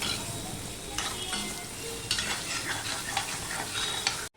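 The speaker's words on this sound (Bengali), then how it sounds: "আলু পেঁয়াজটা একদম ভালোভাবে ভাজা হয়ে পড়ে গেছে" Potatoes and onions fry in a pan with a close, continuous sizzle, broken by several scraping stirs of a spatula before the sound cuts off.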